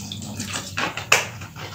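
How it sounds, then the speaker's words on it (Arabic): Cold water from the fridge is poured into a blender holding banana, cucumber and lemon for juice, a short, close splashing gush that swells and then ends. "غندير فيه هنايا الماء بارد من الثلاجه"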